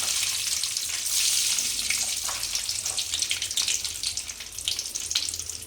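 Loud sizzling and crackling as mustard and fenugreek seeds hit hot oil while tempering for okra sambar, a dense hiss that swells and then settles into scattered pops.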